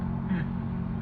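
A car engine rumbles steadily nearby in a low, continuous drone, with no clear change in speed over the brief moment.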